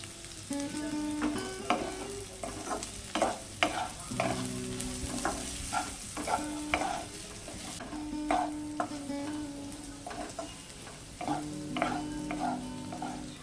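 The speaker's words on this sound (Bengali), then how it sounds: "দিয়ে দেবো লঙ্কা কুচি" Chopped green chillies frying in oil alongside potatoes in a pan, a continuous close sizzle punctuated by regular spatula strokes scraping and tapping the pan throughout.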